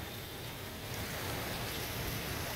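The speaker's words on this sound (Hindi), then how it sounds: "जिस तरीके से गरज चमक के साथ बारिश हुई है" Heavy nighttime rain pours down steadily in Karachi during a thunderstorm, a dense, continuous hiss of rainfall on surfaces, loud and even throughout with no voices.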